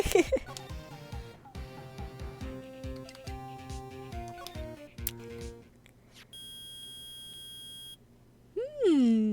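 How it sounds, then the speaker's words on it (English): Electronic beeping of a metal detector in the Phoenix Wright Ace Attorney video game, a loud run of tonal chiptune blips and steady beeps, with a short sustained tone near the end. "It's beeping! The metal detector's found something!"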